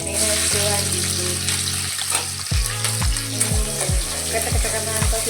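Garlic, ginger and chilli frying in hot oil for veg noodles, a steady broadband sizzle throughout with several sharp clinks and knocks of a utensil against the pan in the second half, no talking.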